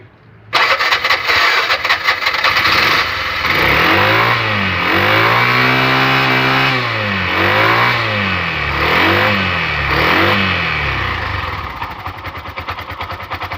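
A Bajaj LPG auto rickshaw with weak pickup cranks and starts, then its small engine revs up and down in several loud close-up surges before settling back toward idle.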